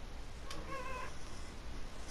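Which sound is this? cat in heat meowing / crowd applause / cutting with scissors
cat in heat meowing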